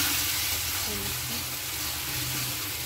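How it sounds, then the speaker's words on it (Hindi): Spices and a pinch of asafoetida sizzle steadily in hot oil, frying for okra curry: a continuous close crackling hiss with a faint voice underneath. "इसको मैं 2 मिनट तक भूनूँगी।"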